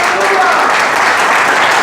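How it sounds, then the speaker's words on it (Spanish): A church congregation bursts into loud, dense applause for a brief stretch, with voices mixed in under the clapping. "Fuerte el aplauso al Señor."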